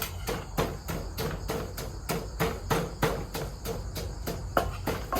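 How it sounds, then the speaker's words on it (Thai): A pestle pounds soaked rice with salt and eggplant in a mortar, about sixteen steady close thuds in an even rhythm, with insects chirping faintly behind. "ตอนนี้ก็สิตำข้าวเบือเลย"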